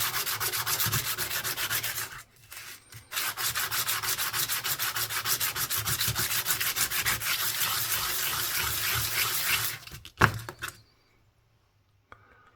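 Steady, harsh abrasive rubbing as a 50 pence coin ring is sanded, running continuously for several seconds with a short pause, then stopping after a brief knock, close and fairly loud with no talk.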